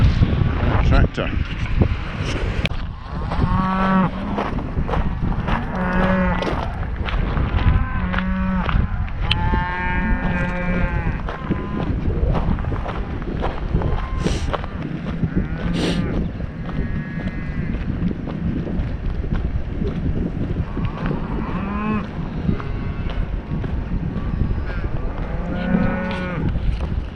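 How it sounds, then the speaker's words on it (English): Cattle moo repeatedly on a windy hillside along a hiking trail in Scotland, long low calls rising at intervals from a herd ahead, heard through steady wind buffeting the microphone. "Up ahead I see cows."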